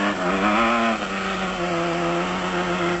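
A single-seater off-road race car at the 1996 Sugarbelt Off Road Race in South Africa, its engine holding a loud, steady drone with harmonic whine throughout, close and continuous without a break.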